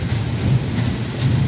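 Heavy rain pours steadily in Saudi Arabia, a dense hiss with a low rumble of thunder underneath, continuous and close.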